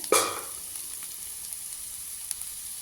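Egg curry masala with tamarind added sizzles steadily in a hot pan, opening with a loud stirring scrape and then settling into a continuous close frying hiss with light utensil taps.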